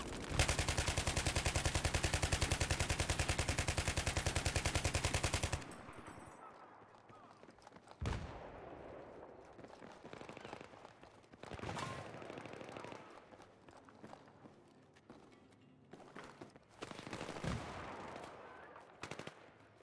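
Rapid bursts of M4A1 assault rifle fire in a first-person shooter video game, a dense sustained volley at the start followed by scattered shorter shots and sharp cracks amid game noise.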